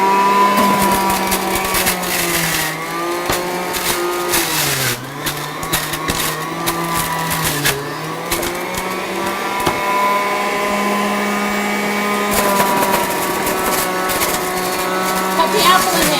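A juicer motor whirs steadily as it spins up to speed, a loud sustained electric whine with pitch dips as it strains, before any apple is fed in.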